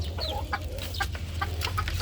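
Roosters and chickens cluck at feeding time in a rapid series of short, close clucks and squawks, with a steady low background hum underneath.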